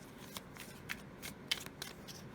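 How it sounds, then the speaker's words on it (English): Tarot cards are shuffled in a quiet room, with soft riffling bursts and papery slaps repeating every few tenths of a second, close and faint. "Let's see what we get with the tarot while I'm shuffling here."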